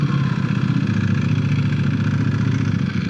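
Four-cylinder 200-horsepower engine running at a steady idle, a loud, close, even throbbing rumble that holds constant for the full few seconds.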